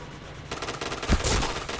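Rapid automatic gunfire in a shooter video game, a dense burst of loud shots that starts abruptly after a short quieter moment and keeps going to the end.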